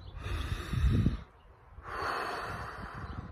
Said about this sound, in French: Ça passe par de la respiration profonde.